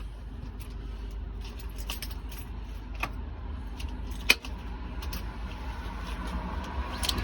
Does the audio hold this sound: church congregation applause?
no